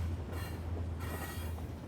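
A passing train rumbles steadily with a deep low drone and broadband wheel-and-rail noise, loud and continuous across the whole stretch, with no voices.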